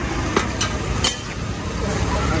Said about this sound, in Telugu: దీనికి పన్నీర్ రాశాడు, వేసాడు, తిప్పాడు, అటేసి ఇటేసి తిప్పాడు.